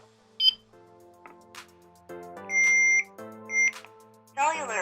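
A Hikvision AX Pro alarm panel emits a series of electronic beeps and tones while arming, with short chirps and longer steady tones spaced unevenly, close and clear, with a voice-like prompt at the end.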